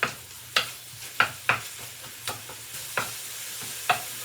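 Spices hitting hot oil for a red lentil curry make a faint, steady sizzle, punctuated by about eight sharp, evenly spaced utensil taps and clinks on the pot. No voices.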